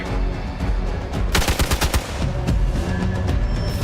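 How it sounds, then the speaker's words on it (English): Rapid bursts of gunfire in the turn-based video game Marvel's Midnight Suns, a loud close volley of sharp shots with individual cracks continuing after the main burst. "Did you just shoot Captain Marvel"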